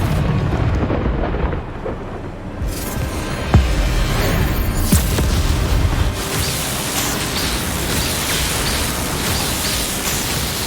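Bombarda blasting spell exploding during a Hogwarts Legacy duel, a heavy booming burst followed by rumbling, crackling debris and a sustained roaring noise, loud and close with no talk.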